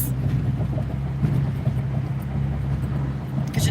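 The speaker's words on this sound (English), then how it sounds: "Here come some more motorcycles." Motorcycles roll past outdoors, a low, steady engine rumble that stays fairly close and loud, swelling slightly near the end as another rider approaches.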